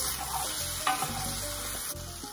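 Peppers and tomatoes blistering in a hot dry pan, a loud, continuous sizzle with crackling spits and a brief clatter near the middle, no voices.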